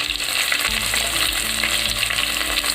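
Three or four shallots frying in hot coconut oil with mustard seeds in a pan, a loud, dense, continuous sizzle with low stirring thumps beneath and no talking.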